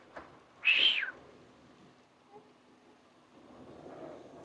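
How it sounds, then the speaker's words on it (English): A southern white-crowned shrike gives one short, bright call during an outdoor safari, moderately clear above a faint background hum, followed by quieter rustling. "Sounds like a southern white-crowned shrike calling."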